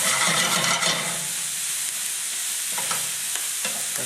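Onions, bacon and mushrooms fry in a pan with a dense, continuous sizzle and crackle, strongest at the start and settling to a steady hiss with a few faint scrapes of stirring, close and without talk.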